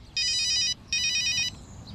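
Two bursts of a phone ringtone trill over a low background hum, each electronic ring lasting about half a second with a short gap between, fairly close and clear with no voices.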